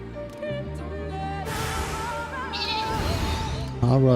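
Sheep bleats from the video game Final Fantasy XIV rise under ongoing game music and effects, with a louder bleat near the end; a person talks at times.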